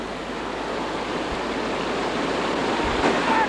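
A river rapid on an East Coast raft trip rushes in a continuous, dense roar of churning water that grows slightly louder toward the end, with no one speaking.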